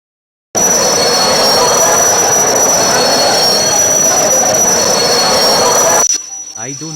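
Train arriving at a platform in an Indian train simulator game: a loud, steady rumble of rolling wagons with a sustained high wheel squeal throughout, ending abruptly before a quieter tail with a brief voice.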